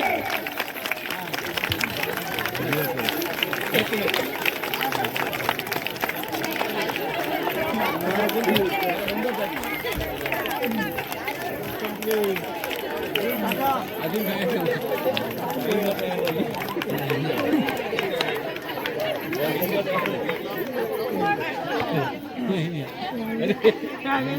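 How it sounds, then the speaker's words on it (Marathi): Continuous audience clapping during a timed Women's Day game, a steady dense patter of hands blended with crowd chatter and voices, sustained without pause. "टाळ्या टाळ्या टाळ्या थांबल्या नाही पाहिजे."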